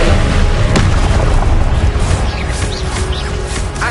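A fire spell cast in the Hogwarts Legacy video game on PS5 gives a loud booming burst with crackling fiery rumble, heard amid a dense mix of game effects with no talk.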